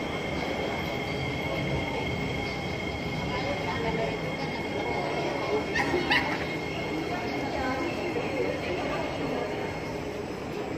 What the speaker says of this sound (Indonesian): MRT-nya sudah datang.